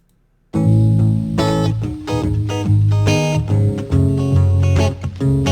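Sampled hip-hop beat played dry with no compression, punchy kick and snare hits over bass and melodic sample, loud and rhythmic after a brief quiet start, no voices.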